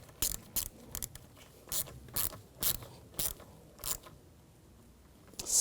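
Ratchet wrench tightening the battery terminal on a 2011-2018 Volkswagen Jetta, heard as a series of sharp, close clicking strokes spaced about half a second apart, then a quiet stretch.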